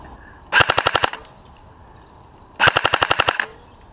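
A Silverback Bizon airsoft gun fires 0.2 gram BBs through a chronograph in two close, loud bursts, each a rapid string of about eight sharp mechanical cracks, separated by a short quiet pause.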